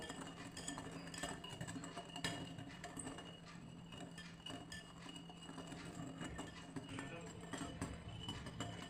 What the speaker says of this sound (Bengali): এখানে এক কাপ দুধ হাফ কাপ চিনি দিয়ে সুন্দর করে গুলে যাওয়া পর্যন্ত আমি মিশাবো